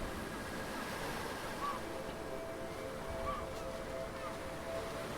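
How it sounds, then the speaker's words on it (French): Sea waves wash onto a shore in a steady, continuous surf roar, broad and even, with faint distant tones drifting above the rush of water. "Voilà la première vague"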